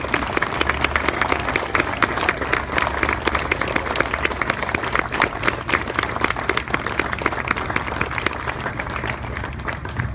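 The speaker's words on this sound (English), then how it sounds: "Please join me in giving a very great round of applause to these great Americans." Sustained applause from an audience honoring veterans at a Fort Thompson ceremony, a dense steady patter of many hands clapping for about ten seconds with no voices over it.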